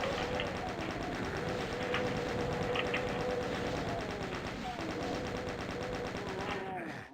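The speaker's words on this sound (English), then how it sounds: "Plasma gun." Rapid, continuous plasma gun fire in the Doom video game, a dense stream of repeated shots held for several seconds at steady loudness, with chaotic game effects layered beneath.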